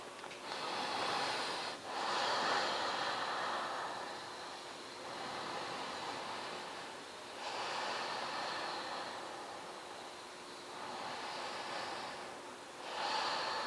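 Slow, deep breaths during a seated yoga twist: long, airy inhales and exhales follow one another at a steady, unhurried pace, close and clear, with no talking.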